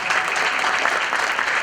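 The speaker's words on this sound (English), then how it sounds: "can you please give a round of applause for Mr. Roger, the Director of Music" Audience applause at a school winter jazz concert, a dense, steady wash of many hands clapping close and fairly loud throughout, with no speech over it.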